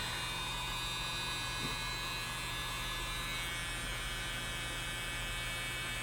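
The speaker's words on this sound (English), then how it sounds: "I'm going to use my mini blow dryer" A mini blow dryer with a narrow nozzle attachment runs steadily with a constant whirring hum and airy hiss, no pauses throughout, drying acrylic pour paint.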